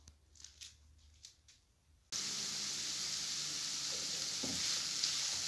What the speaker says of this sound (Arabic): دابا غنجيب خيزو ونديرو فوق بنا الدجاج والبصلة